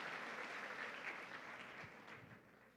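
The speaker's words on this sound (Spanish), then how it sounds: "Dale un fuerte aplauso al Señor por su amor y su misericordia." Church congregation applause during a Spanish-language Catholic talk, a soft, distant wash of clapping that stays steady and tapers slightly toward the end.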